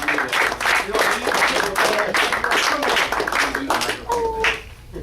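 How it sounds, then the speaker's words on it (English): Audience applause at a Taylor guitar roadshow held at a music store in Savannah, a dense steady clapping from an indoor crowd lasting several seconds, with some voices and a brief whistle-like tone near the end. "Give him a round of applause."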